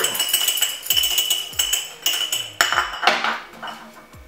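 A jar of white rum with cocoa beans and pineapple is shaken, sending bright glassy clinks and rattles in quick repeated bursts, close and fairly loud, with no voices.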